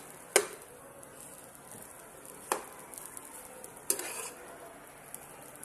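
Fried rice is stirred in a pan, three sharp scraping clacks of a utensil spaced a couple of seconds apart over a faint, steady sizzle.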